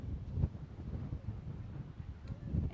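Gusty wind buffets the microphone outdoors, a steady low rumble swelling in louder gusts near the start and end, with no talk.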